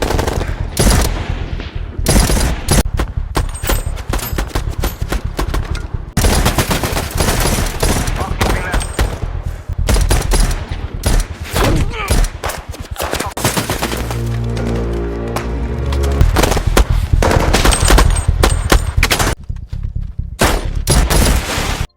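Intense bursts of automatic gunfire and rapid shots crack repeatedly in a film shootout with Berlin police, loud and close, with brief pauses between volleys in a chaotic exchange.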